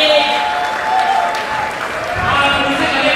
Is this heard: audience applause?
yes